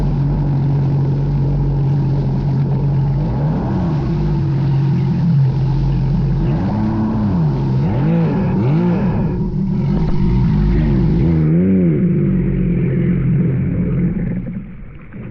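A loud, continuous Sea-Doo jet ski engine roar with its jet pump and exhaust out of the water, repeated surging rises and falls in pitch as it revs hard, steady throughout and close.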